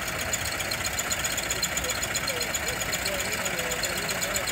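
Steam lawn tractor engine with condenser running on 800 psi steam, a continuous dense hiss and rapid mechanical chuffing at even loudness throughout.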